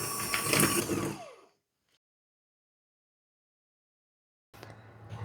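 An electric hand mixer blends cake batter of egg yolks and baking soda for a Dutch-style layered cake. A loud, close motor whir runs about a second and a half, then spins down into silence before whirring up again near the end.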